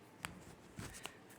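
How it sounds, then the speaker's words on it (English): A few soft, quick papery flicks and riffles of tarot cards being shuffled, quiet and close, with near silence between them. "but I will shuffle them again for you."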